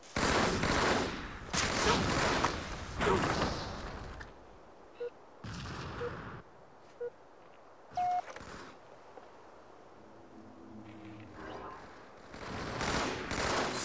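Gunfire in a first-person shooter video game: several loud, broadband bursts early on, then scattered short, sharper single shots, with near and distant shooting spread unevenly across the stretch.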